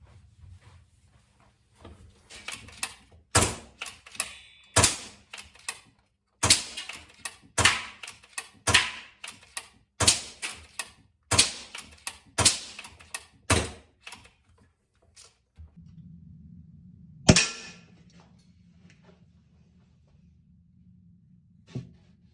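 A BSA R12 CLX air rifle is fired over and over, each shot a sharp, close crack coming roughly once a second in a steady series, with a low hum starting near the end.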